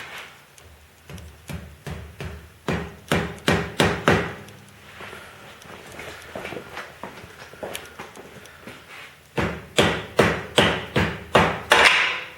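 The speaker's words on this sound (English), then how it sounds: "I use the rubber hammer, so I'll get my rubber hammer." A rubber mallet thumps repeatedly on the corners of a Harley-Davidson Sportster XL883L rocker box cover in bursts of rapid knocks, with a quieter pause in the middle before another loud series.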